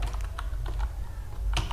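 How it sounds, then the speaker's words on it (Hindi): Typing a command on a computer keyboard in an MS-DOS command prompt, a few light scattered key clicks at close range over a low steady hum, with no talking. "तो उसके लिए आप कमांड टाइप कीजिए"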